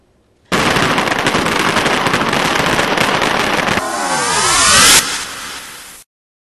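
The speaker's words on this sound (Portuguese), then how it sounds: "No encerramento, houve ainda uma espetacular queima de fogos, celebrando 107 anos do Imortal." Fireworks at a football club's 107th anniversary celebration, a loud dense crackling barrage of bursts and pops that swells toward the end, then cuts off.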